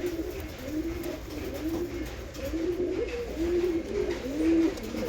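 Pigeons in a breeding loft coo in soft, repeated low warbles. The calls overlap in a steady murmur, close by and moderately loud over faint background noise.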